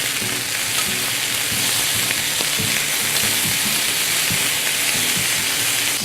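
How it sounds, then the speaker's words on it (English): Cubes of pork on honey soy skewers sizzle steadily on a hot cooking surface, a loud, continuous frying hiss with faint crackles and no voices. "And we'll cook them for about 60 to 90 seconds on each side."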